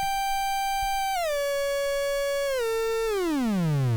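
A 40106 IC oscillator synth built on a breadboard, a buzzy harmonic-rich tone held steady then stepping down in pitch twice before sliding smoothly into a low bass drone, alone without any voices.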